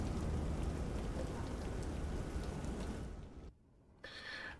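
Steady rain pattering on a Kodiak plane in a flight simulator game, a dense even hiss that briefly drops out near the end before resuming more faintly.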